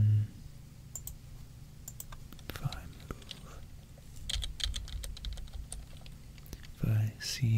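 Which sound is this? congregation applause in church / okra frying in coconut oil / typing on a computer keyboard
typing on a computer keyboard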